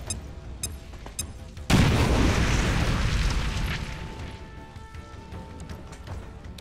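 A grenade goes off in XCOM Chimera Squad with a sudden loud blast that rolls and decays over several seconds, following softer ambient game sounds and a few faint clicks.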